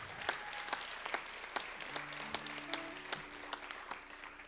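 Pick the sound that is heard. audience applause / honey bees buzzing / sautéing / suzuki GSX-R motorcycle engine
audience applause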